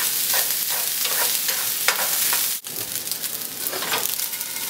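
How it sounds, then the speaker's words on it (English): Shrimp and beef stir-frying in a hot pan, a steady loud sizzle with repeated scraping stirs and a brief dip in the middle before the frying noise resumes. "you can go ahead and add your delicious shrimp and beef."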